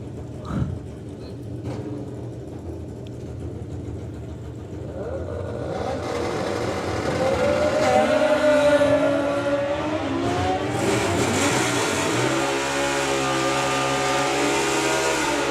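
Drag racing ET bike class engines at the Summer Nationals, a loud sustained roar of motorcycle engines revving and accelerating down the strip, rising in intensity midway and holding steady with track-side ambience.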